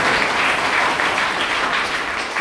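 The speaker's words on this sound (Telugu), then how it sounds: "ఒక్కసారి మన ఎమ్మెల్యే గారికి అందరూ చప్పట్లతో" An audience applauds a local MLA at a public gathering, a loud, dense burst of many hands clapping close by, sustained evenly for a couple of seconds.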